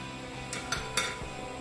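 A spoon clinks and scrapes in a pot of Goan feijoada, three quick metallic knocks close by over a quiet kitchen background.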